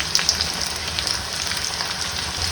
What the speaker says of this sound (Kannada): So we'll fry them.